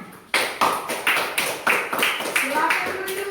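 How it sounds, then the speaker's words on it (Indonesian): Clapping from a classroom group of students during a Christian religious education lesson, a series of sharp, fairly close claps in uneven bursts that build into brief applause. "Tepuk tangan."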